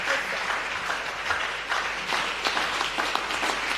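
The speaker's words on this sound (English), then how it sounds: "A round of applause for GHOne." Studio audience at a TV talent show applauding steadily, dense continuous clapping throughout with faint voices mixed in.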